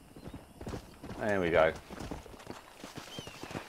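Horse hooves clip-clop in the Red Dead Redemption video game, a rhythmic run of light hoof beats with a brief whinny in the middle, while someone talks briefly over the game sound.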